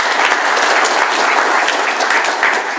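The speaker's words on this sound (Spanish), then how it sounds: "para quien también pido un aplauso" Audience at an educational event in Mexico applauds loudly and steadily, a dense close wash of many hands clapping with no talk over it.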